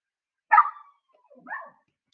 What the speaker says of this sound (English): I apologize for the dog barking in the background there